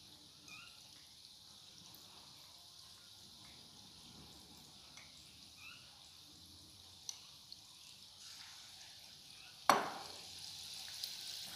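Gram-flour-battered cauliflower pakoras fry in hot oil with a faint, steady sizzle and soft bubbling, broken near the end by one sharp metallic clank and a couple of small ticks.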